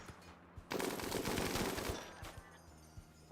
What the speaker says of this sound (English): Oh, that machine gun doesn't miss.